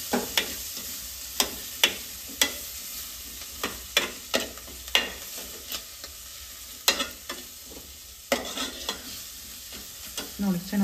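Okra with pundi palle greens is stirred in a frying pan over a low, steady sizzle, with repeated sharp spatula scrapes every second or so, up close and without talk.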